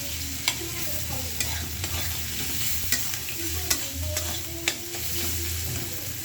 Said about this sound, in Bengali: পেঁয়াজগুলো ভাজা করে নিই